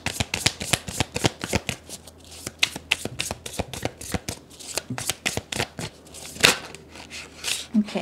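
Tarot cards being shuffled by hand in a steady run of crisp riffling snaps and soft slaps, close and fairly loud, with brief pauses between bursts.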